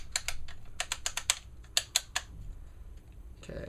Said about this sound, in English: I'm going to put the barrel nut back on here. I'm going to put a couple turns. Going to click,